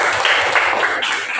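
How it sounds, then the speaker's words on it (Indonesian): Classroom applause from students clapping together in class, a short dense burst of many hands close by, steady and loud without spoken words. "Oke, tepuk tangan untuk kita semua."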